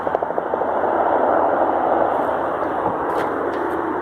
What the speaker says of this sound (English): The helicopters come back again.